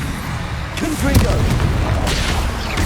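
A Confringo blasting curse explodes in Hogwarts Legacy on PS5, a deep booming blast rumbling under spoken spell incantations.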